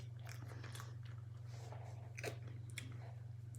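Someone bites and chews a tortilla close to the mic with soft, moist crunches in short bursts over a steady low hum.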